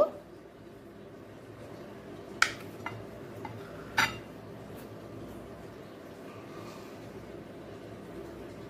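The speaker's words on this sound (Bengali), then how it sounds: "পনিরটাকে ছোট টুকরো করে রেডি করে নেব" A knife cuts 400 grams of paneer into small cubes on a board with two crisp knocks, a few fainter ticks between and after them, in a quiet kitchen.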